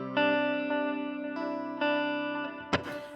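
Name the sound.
guitar delay repeats trailing off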